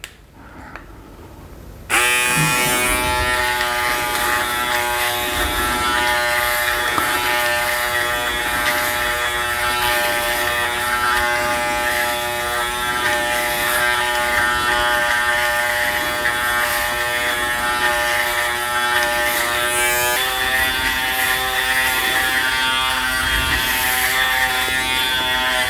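An Aberlite Touch 2 electric head shaver buzzes continuously while shaving hair at the back of the head, starting abruptly after a short quiet moment and holding a steady, close, loud hum with slight shifts in pitch.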